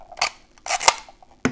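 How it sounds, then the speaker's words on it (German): Adhesive tape pulled off a roll and pressed down while fastening a paper tea-light craft, heard as a few short ripping bursts with quiet gaps between them, close by and fairly loud. "Dann machen wir das jetzt hier fest mit Klebeband"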